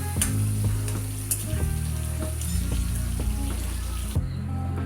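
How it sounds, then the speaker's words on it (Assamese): Chopped tomatoes frying in a pan as part of a fish curry, a steady close sizzle with occasional stirring scrapes and no voices. "মই ইয়াত বিলাহীখিনি ভাজিছোঁ"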